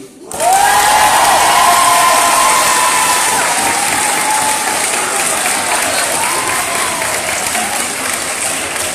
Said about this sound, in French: Merci d'accueillir, sous un tonnerre d'applaudissements, la première ministre du gouvernement, Assatou.